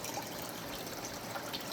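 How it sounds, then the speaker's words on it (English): Water from a single-pump pond system flowing down a creek through an indoor garden with fish and turtles: a soft, continuous trickling and gushing, close and steady, with no voices. "this is a one pump system that pumps water up out of the pond into the garden, which has a creek running through it"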